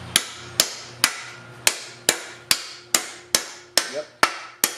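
A hammer drives an Energy Suspension bushing into the rear trailing arm of a Honda Civic wagon, ten sharp metallic blows at a steady, even pace, close and loud with brief ringing after each strike.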